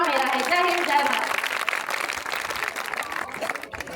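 A school audience claps for a student's patriotic speech, a moderate burst of applause that thins out over a few seconds while a voice talks over it.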